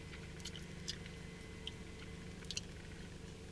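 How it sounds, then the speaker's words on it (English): Someone chews gum close to the microphone, making faint, wet, squishy clicks and smacks scattered irregularly over a low background hum. There is no speech. "Sorry, I'm chewing gum and that's really annoying"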